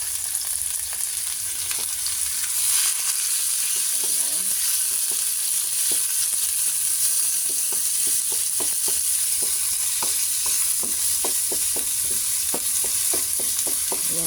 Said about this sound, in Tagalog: Gisa na natin ang ating sahog na liver at gisay.